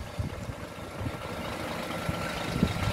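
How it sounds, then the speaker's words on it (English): Euro 4 Scania engine of a 2008 Scania K340EB 6x2 coach with Caetano Levante body idling, a steady low diesel rumble with a slight irregular throb, fairly close and continuous. "Euro 4 Scania engine."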